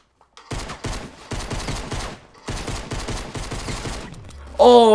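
Rapid automatic gunfire from the video game Fortnite, fired in several long, steady bursts separated by brief pauses, loud and close, with a different electronic game sound cutting in at the end.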